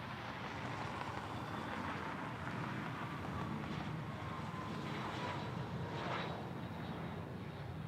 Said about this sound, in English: Looks like a wheels up Cessna citation.